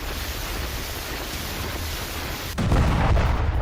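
A Russian MLRS rocket artillery attack near Pokrovsk comes through as a steady roar of distant noise, then a sudden deeper, louder rumbling surge partway through that keeps going, with no one speaking.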